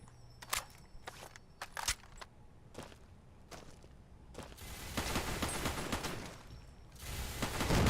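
Automated turrets firing in Fallout: New Vegas, bursts of rapid gunfire starting faint and sparse, then swelling into a dense, louder barrage of overlapping shots toward the end, with no talking.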